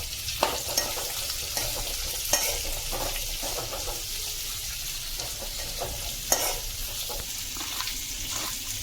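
Ginger, garlic and chili roasting in a pan for a spicy mutton gravy, constant frying sizzle with repeated spatula stirring and a few sharp scrapes, close and even.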